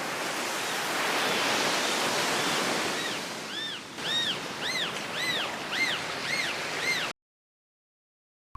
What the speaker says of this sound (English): It's a dolphin.